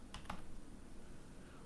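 Quick keystrokes on a computer keyboard while a workspace name is typed into Photoshop, a short burst of soft clicks near the start, then only quiet room hiss.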